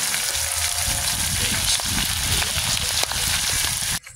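Garlic and onion sautéing in a hot pan, a steady close sizzle and crackle of frying that holds at an even level throughout, then cuts off abruptly near the end.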